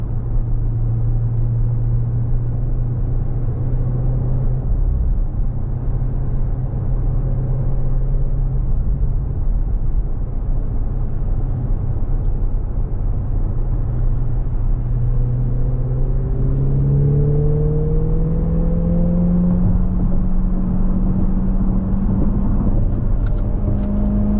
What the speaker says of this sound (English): it's a fantastic sounding exhaust